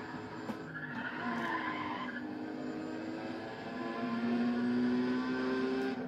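A race car engine in Need for Speed ProStreet drones steadily with tonal harmonics that dip and then rise again as the throttle eases off for a corner, a continuous, moderately loud whine with no talking.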